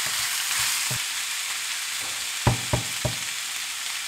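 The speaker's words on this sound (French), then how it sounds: "Et puis, mes épices. Et puis je mélange." Minced meat stuffing with bell peppers, flat parsley, coriander and spices sizzles steadily in a pan, with a few distinct knocks of stirring utensils near the end.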